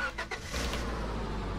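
Car engine starting in the Roblox game Lumber Tycoon 2, a steady low engine rumble that fires up and holds loud and close throughout, with no talking.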